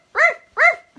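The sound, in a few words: dog Rags barking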